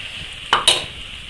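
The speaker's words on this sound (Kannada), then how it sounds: "ಇವಾಗ ನಾನು ಹಸಿರುಗಾಯಿ ಹಾಕ್ತೀನಿ" Green chillies drop into a hot, sizzling pan of oil for egg biryani, two quick crackling bursts rising over a steady background fry.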